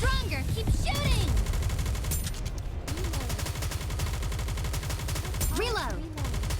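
Rapid automatic gunfire from the video game Nikke: Goddess of Victory, a steady stream of shots at moderate loudness running throughout, with brief voiced lines cutting in near the start and end.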